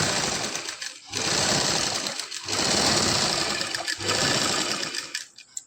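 A sewing machine stitches salwar fabric in long continuous loud bursts, with brief pauses between runs.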